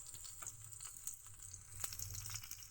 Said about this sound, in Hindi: इसे धीमी आंच पे पका लीजिए थोड़ी देर, 2-4 मिनट। लहसुन लाल हो जाएगा